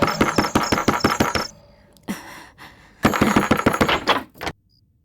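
Rapid bursts of heavy knocking on a door in a Hindi-dubbed South Indian action film scene, loud and close, with a pause and then a second flurry of pounding.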